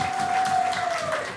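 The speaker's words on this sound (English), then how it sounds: "our Prime Minister, can we give him a round of applause, please? Prime Minister Dickon Mitchell." Audience applause at a town hall meeting after the Prime Minister is introduced, a steady wash of clapping held for over a second, with a faint whistle-like tone running through it.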